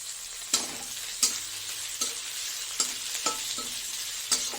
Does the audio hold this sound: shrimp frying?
yes